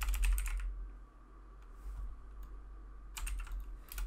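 Keyboard typing in two quick bursts, one at the start and one near the end, with a quiet pause between, close and fairly clear.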